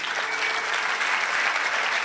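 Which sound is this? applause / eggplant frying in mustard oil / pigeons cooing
applause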